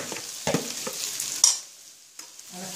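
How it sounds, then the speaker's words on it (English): Crushed tapioca is stirred in virgin coconut oil in a warm pan: soft scraping and shuffling strokes over a light sizzle, close up with no voices, fading briefly before a final stir. "Little bit of stirring is required."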